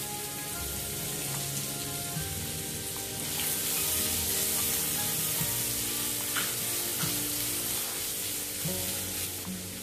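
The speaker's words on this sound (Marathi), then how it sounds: "आणि यात आपल्याला कांदा टाकायचा आहे." Onion hitting oil with cardamom, two cloves and cumin for cashew paneer masala. The sizzle rises into a brighter crackle around three seconds, then holds steady and close, with light stirring taps and no speech.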